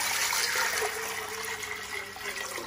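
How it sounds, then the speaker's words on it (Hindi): Water pours steadily into a pressure cooker on a lit stove, about a litre of it being added for a mutton paye dish, making a continuous close splashing gush with no talk. "अब कुकर में हम डालेंगे 1 लीटर पानी।"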